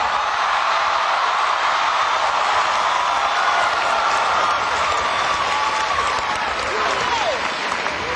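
Applause from a large University of Michigan commencement crowd in a stadium, a dense, loud and sustained roar of clapping and faint cheering that continues throughout without a break.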